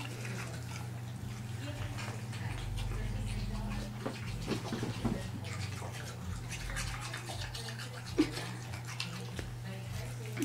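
A toothbrush scrubs a dog's teeth while the dog slobbers, making a soft, wet, irregular brushing and slurping close by, with a steady low hum underneath.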